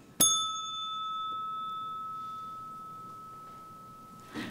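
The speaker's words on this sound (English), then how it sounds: "Ring the bell again." A small bell is struck once at a poetry reading, a sharp ding that rings on with a long, slowly decaying tone in a quiet room before a faint second knock.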